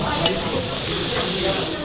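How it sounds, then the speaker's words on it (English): Thin beef slices sizzle steadily on a hot skillet in a restaurant, a dense continuous frying hiss with light stirring scrapes, close and fairly loud throughout. "as soon as they touch the hot skillet, they just start to unravel"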